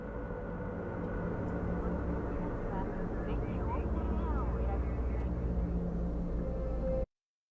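An aerial vehicle landing in Cyberpunk 2077, a steady droning engine rumble with a faint whine and brief chirps, held for several seconds before cutting out abruptly.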